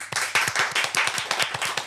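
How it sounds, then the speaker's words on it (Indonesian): Studio audience clapping during a talk show segment: a short burst of brisk, rhythmic hand claps, loud and close, with no voices over it. "Tepuk tangan."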